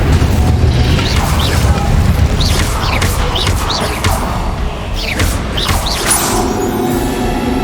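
Incendio fire spell blasting during a boss battle in Hogwarts Legacy, heavy booming bursts and crashing impacts over a dense rumbling game soundscape, with whooshing effects that rise and fall repeatedly.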